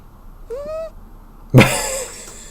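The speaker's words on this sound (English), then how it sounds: "That was such a good meow." Two cat meows, a short higher one followed by a louder, longer meow, close by with quiet room tone between.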